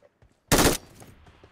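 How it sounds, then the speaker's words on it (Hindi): A short, loud burst of automatic gunfire from PUBG Mobile gameplay, a tight volley of rapid shots followed by faint background game noise. "इधर से फायर आ रहा है, 240 से फायर आ रहा है"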